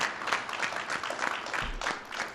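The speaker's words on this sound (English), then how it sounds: "Let's give them all a round of applause for their tremendous leadership." A brief burst of steady audience applause at a Toys for Tots charity event, with many hands clapping together at moderate volume from a short distance.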